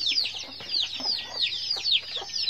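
Native Gavaran village hens in a small brooding shed cluck and squawk in quick overlapping bursts, close and fairly loud, with a faint low hum underneath.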